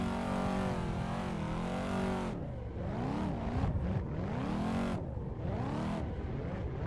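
A Chevrolet Corvette C7 V8 in a racing game revs and drops repeatedly through the gears while drifting, a loud, continuous engine whine sweeping up and down with no talking.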